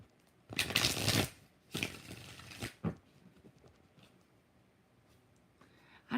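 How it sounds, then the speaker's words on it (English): Tarot cards being shuffled in a few brisk riffling bursts close up, with quieter handling noises and faint rustles in between. "4 shuffles for Rashima."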